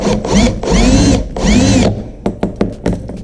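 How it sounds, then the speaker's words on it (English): A power drill with an 11/64 bit whirs in two short bursts, drilling out a toy car wheel, then stops, followed by a few light clicks and taps of plastic being handled. "drill out, because this is just a wheel donor."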